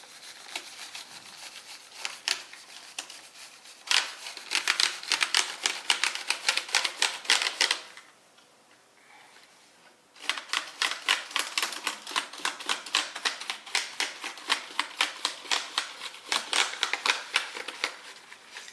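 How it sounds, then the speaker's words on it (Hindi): A brush sweeps across a laptop keyboard in rapid rhythmic bristly strokes that rattle the keys, close and steady, with a short quiet pause midway before the brisk brushing resumes. "पहले हम जो ये वाला ब्रश है इससे क्लीन करना शुरू करते हैं।"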